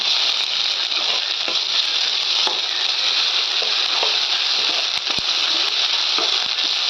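Ginger and garlic sauté in a hot pan for a kadamba fish gravy, giving off a loud, steady sizzle up close with occasional faint stirring scrapes and no talking.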